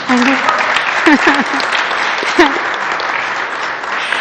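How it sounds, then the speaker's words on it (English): Audience applause at a public forum, a dense, steady patter of many hands clapping, close and loud, with a few voices calling out over it. "I think that deserves a round of applause, huh?"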